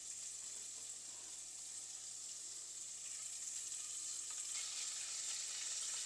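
Ingredients sauté in a pan for coconut rice, producing a soft, steady frying sizzle with faint stirring, quiet and uninterrupted.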